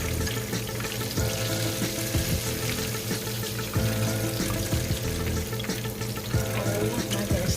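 Fish frying in a pan, a dense steady sizzle and crackle with occasional clinks and knocks of cookware, close and continuous, without speech.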